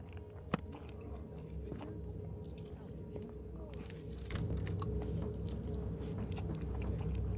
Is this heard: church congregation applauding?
no